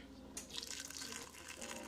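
Water from a tap or jug is poured into a pot for Jamaican curry goat, a steady splashing fill lasting about two seconds at close range, with no voices.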